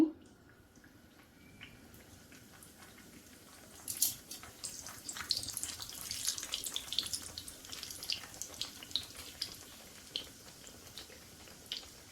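Food frying in hot oil on a stove: after a quiet start, a faint crackling sizzle with popping bursts rises and continues irregularly.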